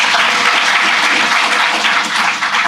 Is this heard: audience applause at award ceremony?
yes